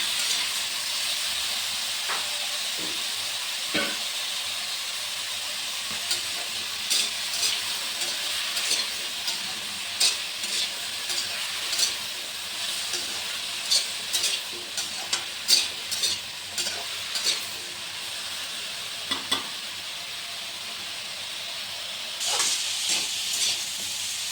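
Chopped bottle gourd and its stems fry in a pan with a steady hiss and sizzle, while a spatula scrapes and stirs in repeated short clatters throughout, close and alone without any voices.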